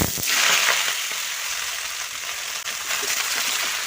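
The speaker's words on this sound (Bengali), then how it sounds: "তেলটা গরম হয়ে গিয়েছে আমি পাঁচ ফোড়ন ফোড়নে দিলাম ফোড়নটা ভাজা ভাজা হয়ে গিয়েছে এই পুঁইশাকটা ওর মধ্যে" Malabar spinach dropped into hot oil with panch phoron (five-spice), giving a loud, dense, close sizzle and crackle that holds steady for the whole stretch with no voices.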